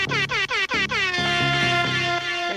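At a Hot Wheels toy car race, a loud air horn blasts in quick repeated short bursts, then holds a long, steady, blaring tone, close and dominant.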